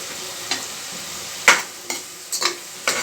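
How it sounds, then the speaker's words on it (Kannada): Tomatoes with turmeric powder fry in a pan, stirred with a few sharp scraping strokes over a faint, steady sizzle. "ಹೀಗೆ ಚೆನ್ನಾಗಿ ಫ್ರೈ ಮಾಡ್ಕೊತಿದ್ದೀನಿ. ಟೊಮೊಟೊ ಎಲ್ಲ ಫ್ರೈ ಆಗಿದೆಯಲ್ಲ"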